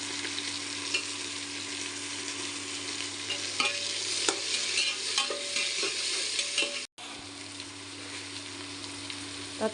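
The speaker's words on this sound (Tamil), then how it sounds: "வெங்காயம் நல்லா வதங்கட்டுங்க" Onions sauté and sizzle in a pan for vegetable biryani, a steady close frying hiss broken by a few stirring scrapes and one brief gap.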